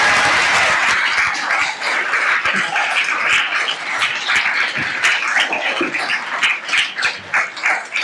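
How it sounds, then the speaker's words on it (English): A summit audience applauds after a speaker finishes, a full, continuous roar of many hands clapping that holds steady for several seconds and thins slightly toward the end. "Can we get another round of applause?"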